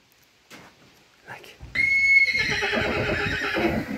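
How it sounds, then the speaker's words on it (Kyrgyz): A foal breaks into a loud, shrill neigh that trails into a long whinny, preceded by a few faint, scattered sounds and standing alone without speech. "Мына туугандар, кулун ушул болду"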